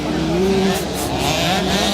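Two Yamaha 65cc motocross bikes racing each other on a dirt track, engines droning loudly and continuously with rising and falling pitch, a commentator's voice layered over the buzzing motors.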